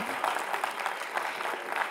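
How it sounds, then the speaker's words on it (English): A crowd applauds with continuous dense clapping, moderately distant and steady throughout. "let's give them a round of applause."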